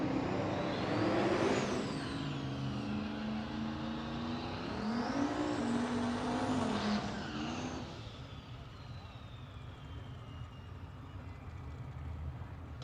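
A drag race car called Mullet launching and accelerating down the strip at a Rocky Mountain Race Week race day, a loud sustained engine roar rising in pitch through the gears, then fading with distance as it pulls away.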